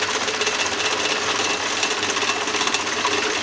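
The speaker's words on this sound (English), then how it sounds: "This is called conventional milling, where you feed the work into the cutter rather than the cutter climbing up on top of the work." A lightweight milling machine cuts a gear by conventional milling, giving a loud, steady, harsh buzzing grind with a fast rapid chatter, continuous throughout with no pauses.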